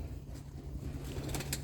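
Young pigeons at a loft in Hawaii give soft low coos with brief wing flutters, fairly close over a constant low background hum.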